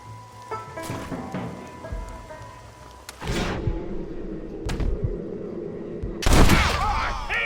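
Gunfire in the Red Dead Redemption video game rings out as several sharp, loud shots spaced across a shootout, over a rumbling background with brief voices in between.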